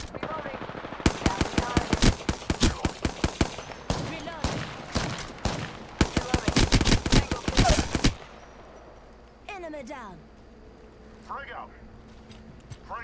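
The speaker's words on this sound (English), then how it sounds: "They're shooting?" Automatic gunfire in the Apex Legends video game comes in loud, rapid bursts for about eight seconds, then stops. Quieter game effects and a player's voice follow.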